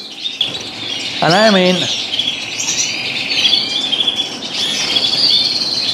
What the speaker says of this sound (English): big heavy variegated young birds.